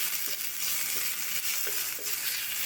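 Onions and green chillies frying in oil for a chicken momo filling, a steady broadband sizzle throughout with faint stirring taps, no talking.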